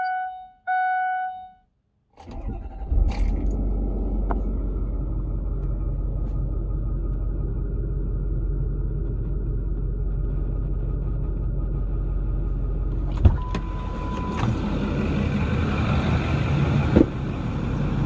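A 2010 Ford F250 with the 6.4 diesel idles through a stock exhaust pipe, producing a deep, steady low rumble close up, with a brief clank and a rise in hiss near the end.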